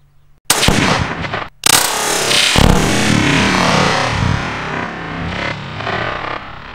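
Shots from a semi-auto AR rifle at an outdoor shooting range: two sharp, very loud blasts about a second apart, the second trailing into a long, roaring, distorted decay that fills the rest of the clip.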